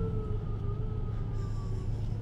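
A police car siren wails continuously at moderate loudness over a low vehicle rumble, its tone gliding slowly, with no one speaking.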